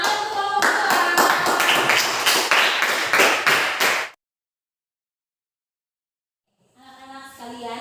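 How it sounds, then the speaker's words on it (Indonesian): Classroom students clapping for a presenting student group, a few seconds of brisk, uneven clapping from many hands close by that stops abruptly, followed by silence and then a voice starting to speak. "Oke, tepuk tangan untuk kelompok"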